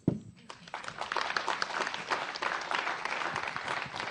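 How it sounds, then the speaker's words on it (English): An audience at a UN water conference applauds the panelists in a steady wash of clapping that starts abruptly and stays fairly loud, with a faint murmur underneath. "I'd like you to join me and applaud our panelists"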